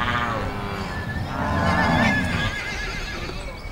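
A horse on a cattle ranch in the Los Llanos plains of Venezuela gives a loud, close whinny that rises and falls over a few seconds, with faint hoof sounds beneath it.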